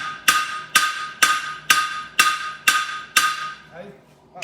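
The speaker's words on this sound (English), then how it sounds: "you know how you draw a clip with the heel of your hammer?" Blacksmith's hammer drawing a clip on a horseshoe during a bar shoe forging session: seven sharp ringing metal strikes at a steady, roughly half-second rhythm, close and bright with ringing decay, then a faint pause.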